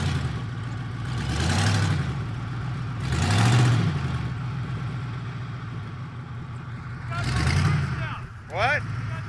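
Honda Civic running tire foam as engine oil, revved in three swelling surges with a rough, labored engine tone, a short rise near the end, and voices talking over it.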